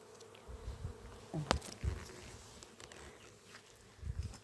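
Honey bees buzz faintly as they fly around the hives on a late-summer day, a soft, continuous insect drone with occasional passes that swell slightly louder close by.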